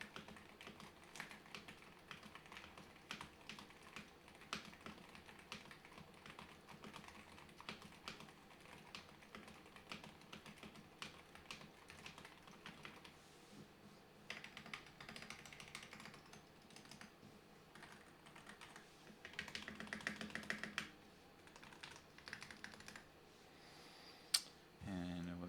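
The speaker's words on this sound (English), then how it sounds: "here is a sound test of the keyboard." Rapid clacking of mechanical keyboard keys, typed in quick irregular bursts, fairly quiet and close, with a brief louder flurry near the end.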